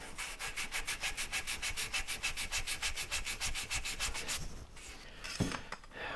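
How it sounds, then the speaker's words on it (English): Sandpaper rubs back and forth across a wooden shadow box in a fast, even rhythm of close raspy strokes for about four seconds, followed by a few softer scrapes and a light knock. "I'll make sure it's sanded like we want it"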